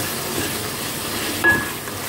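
Minced meat with softened tomatoes and a green chilli cooks over high heat, giving a low continuous sizzle with a brief metallic clink of stirring near the end.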